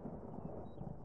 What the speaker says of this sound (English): Can we turn off the thunder? I can hardly hear anyone.